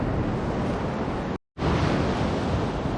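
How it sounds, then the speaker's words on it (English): Rough ocean surf at night on a South Carolina beach, a loud continuous wash of breaking waves and wind, broken by one abrupt moment of silence midway. "The waves are rough tonight."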